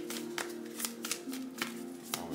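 A deck of tarot cards is shuffled by hand in a sharp series of papery riffles and flicks, close and fairly quiet, with a low steady hum beneath.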